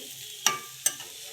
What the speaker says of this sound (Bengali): কাজু বাদামটাকেও একটু ভাজতে থাকবো